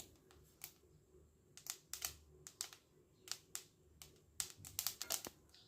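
Sesame seeds roast in a pan for date and sesame laddu, giving sharp, quiet, irregular pops and ticks, a dozen or more scattered clicks at close range over a faint background.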